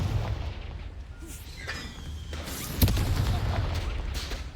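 A Confringo blast spell explodes in the Hogwarts Legacy video game: one sharp, booming burst near the middle, over a steady rumble of in-game background noise.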